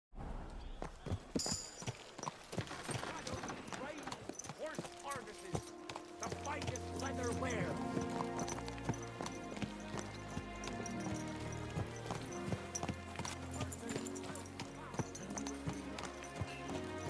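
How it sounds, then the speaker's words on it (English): Horse hooves clip-clop steadily through a busy game soundscape with music and voices, occasional whinny-like calls, the footfalls continuing throughout, from the video game Kingdom Come: Deliverance II. "Watch out with that horse."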